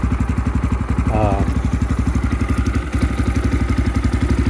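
A 2022 X-Pro Templar motorcycle engine idles steadily after a cold start, a close, loud, rhythmic low chugging thump that keeps an even pulse throughout with a brief rattle near the start.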